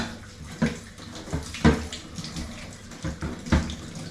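Water runs and splashes in a sink or tub while items are rinsed during home cooking, with three louder sloshing bursts standing out over a steady low wash; no one speaks.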